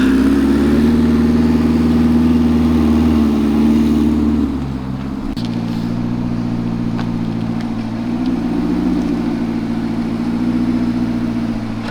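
A Chevrolet C8 Corvette ZR1 rolls slowly onto a trailer at twilight, its engine holding a steady low idle hum with a brief dip and slight throttle swells, close and loud throughout.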